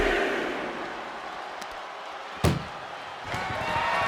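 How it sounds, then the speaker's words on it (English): A single heavy slam rings out as an ambulance door is shut in WWE 2K25 during an NXT Great American Bash match, cutting sharply through a steady crowd roar, with a fainter thud following about a second later. "Look at the struggle just to shut that first door"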